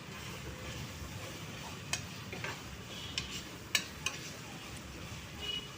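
Tomatoes cooking down in a pan for a chicken dish give a soft, steady sizzle and bubble, with a few light clicks of a utensil against the pan.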